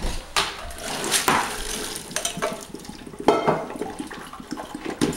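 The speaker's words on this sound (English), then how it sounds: "I will drain the water" Water drained from a pot of boiled carrots splashes and gurgles into a sink, with clattering of the pot and lid in irregular bursts, close and fairly loud.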